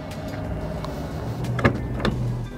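Opel Grandland power tailgate closing, a steady electric motor whir followed by a couple of soft latching clunks near the end, heard close and fairly quiet.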